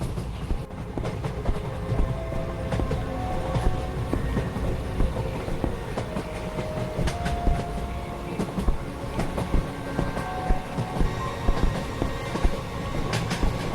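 A train rolls along in the Indian horror video game Anant Express, giving a loud, continuous rumble with rhythmic wheel clatter and occasional metallic squeals.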